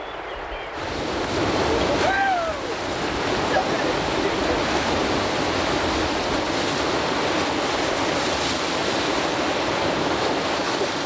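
Rushing river water during a canyon rafting descent, a loud, steady broadband roar of current and spray that holds without break throughout, with wind buffeting the microphone.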